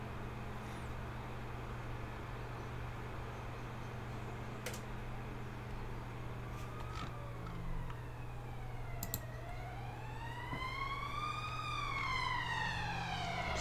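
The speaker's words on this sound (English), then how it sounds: "Sorry about the siren." A distant siren wails in rising and falling sweeps, growing more prominent toward the end over a low steady background hum.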